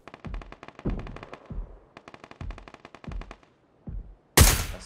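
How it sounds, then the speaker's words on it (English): Suppressed AR fire in PUBG on Sanhok, several rapid bursts of muffled shots in quick rhythmic strings with short pauses between, ending in a sudden louder noisy blast. "Somebody's shooting a suppressed AR where those trees are"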